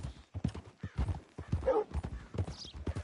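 Horse hooves clip-clop at a steady walking rhythm in Red Dead Redemption 2, fairly close and moderate in level, with a brief whinny-like tone partway through.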